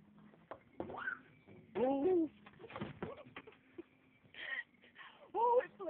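Two birds trapped inside a greenhouse give short cooing, whimpering calls in scattered bursts, close and fairly loud, mixed with rustling and people talking nearby.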